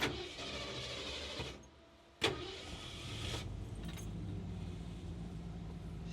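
An old truck is started with the key: a low idle-like hum, a brief drop to near quiet, then a sharp click and the engine settling into a steady low rumble.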